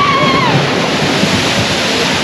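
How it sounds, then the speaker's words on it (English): Water rushes steadily on a fast log flume ride at Universal Studios, a loud, continuous broadband roar with no break and no voices. "this has to be the fastest log flume that there is"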